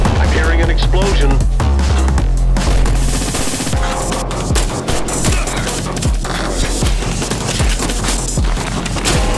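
Explosions and rapid bursts of gunfire from a PC video game battle, loud and continuous, with sharp repeated shots and booms layered over a dense, driving music track.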